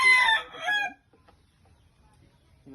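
A chicken gives a short burst of loud, harmonic squawking calls for about a second, then near silence with faint rustling.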